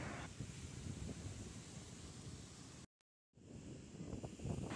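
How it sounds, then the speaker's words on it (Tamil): Evening wind on a beach buffets the microphone in a dense, rumbling rush that cuts out for a brief moment, then returns just as strong, with no speech over it. "இன்றைக்கி மாலை நேரம் நல்ல காற்றோட்டமாக இருக்குது, சில சிலனு காற்று வீசுது"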